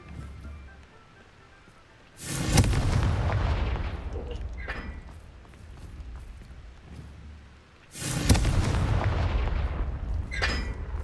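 Two loud whooshing fire bursts from a spell setting enemies ablaze in a video game, each a heavy roaring blast followed by crackling flames that fade before the next, over a low ambient background.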